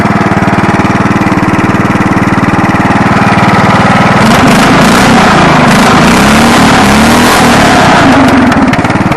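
A lawn mower's small engine, one that had been surging before repair, runs loud and steady throughout, its tone shifting and roughening partway through as the throttle changes, with no talking over it.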